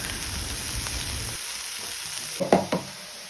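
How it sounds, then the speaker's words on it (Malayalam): Sliced onions sautéing with mustard seeds in a hot pan for egg fried rice, giving a continuous close sizzle that eases halfway through, then a few loud spatula scrapes and knocks near the end, with no speech. "പാൻ വെച്ച് ചൂടായ ശേഷം കടുക് വറുത്ത് സവാളയെല്ലാം വഴറ്റിയെടുക്കുന്നുണ്ട്"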